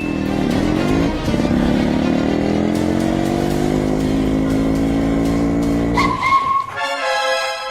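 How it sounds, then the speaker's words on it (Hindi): A motorcycle engine roars loud and close through a chase, revving steadily with a rising pitch before a sharp shift and squeal near the end, with no voices over it. "बाइक से पीछा करते हैं।"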